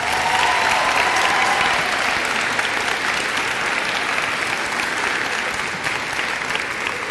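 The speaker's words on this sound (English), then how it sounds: "I do want to give her a round of applause." Sustained round of applause from an audience at a spring sports awards ceremony, dense and steady throughout, loud and close, with a few cheers early on.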